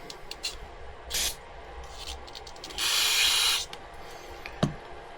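Cleaner sprayed in a tiny garage while working on a 1995 Yamaha Virago 1100 motorcycle, with a short hiss, then a longer sustained spray burst, among quiet rubbing and handling sounds, close and fairly faint.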